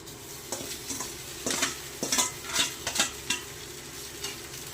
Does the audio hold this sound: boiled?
yes